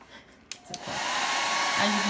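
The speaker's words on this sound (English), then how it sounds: "he's getting his blow dryer nice and heated up. He has it on high heat to get the wax starting to melt" A blow dryer set to high heat, used to melt crayon wax, clicks on, then settles into a steady, close whooshing whir.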